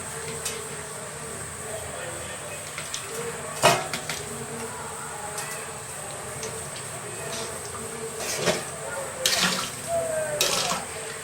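Water poured into a pot of egg and brinjal curry, a splashing, trickling flow with a few clinks of utensils against the pan, while someone talks over it.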